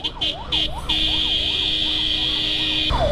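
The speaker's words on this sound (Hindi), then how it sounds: "एम्बुलेंस आ रही है भाई" An ambulance siren wails up and down in Delhi traffic, then shifts to a steady high tone, loud and nearby over a low traffic rumble, with a short honk-like burst at the end.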